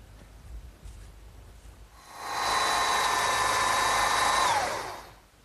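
A power drill bores depth-stopped holes 7/8 inch deep into wood for a garden swing, one steady whine rising quickly, holding loud and close for about two seconds, then winding down as the bit stops.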